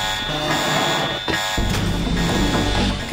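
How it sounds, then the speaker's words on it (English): An alarm blares in the video game Deus Ex, a steady electronic buzzing tone that holds continuously over dense game background noise, with a brief break near the middle and no speech. "I know that the alarm is beeping and everything"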